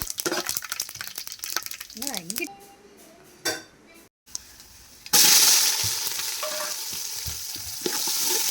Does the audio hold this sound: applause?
no